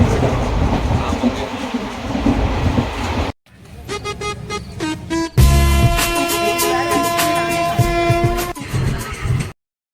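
A train travelling on a long, slow journey rumbles and clatters steadily, with tonal whining and squeals. The sound cuts out briefly, then returns louder with a sustained mechanical hum.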